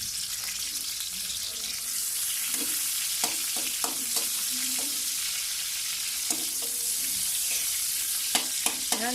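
Garlic fries in a little cooking oil in a pan with a steady bright sizzle, while scattered light clinks and stirring taps sound over it up close.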